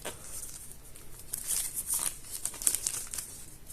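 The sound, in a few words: plastic wrap crinkling while unboxing a Poco C3 phone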